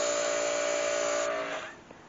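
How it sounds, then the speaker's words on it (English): A pressure washer sprays water onto an area rug being cleaned at home, producing a loud, steady hissing rush that tapers off near the end. "I'm going to hook up my pressure washer"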